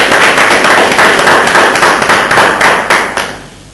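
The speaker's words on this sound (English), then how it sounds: "Give a big round of applause for Mary." Applause from an audience at an academy award presentation honoring a special award winner, a dense burst of many hands clapping that swells loudly, holds steady, then tapers off near the end.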